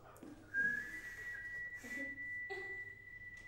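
A person whistles one sustained, steady high tone that runs nearly the whole time, with a brief shift in pitch partway through, over a soft background murmur of room noise.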